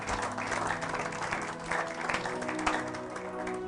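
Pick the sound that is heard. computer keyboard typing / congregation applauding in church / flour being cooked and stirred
congregation applauding in church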